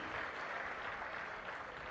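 Crowd at a public government event clapping, a dense sustained burst of applause throughout, fairly distant and even in level.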